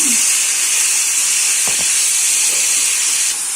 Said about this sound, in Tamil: கத்திரிக்காயும் ஒரு வதக்கிக்கிறேன்